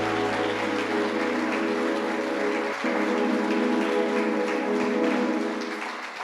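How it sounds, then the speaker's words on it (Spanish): A church congregation applauds during a Sunday morning service with a dense, steady wash of clapping, moderately distant and lasting several seconds, while a sustained organ-like musical tone holds underneath before fading slightly at the end. "Dele un aplauso al Señor en esta mañana."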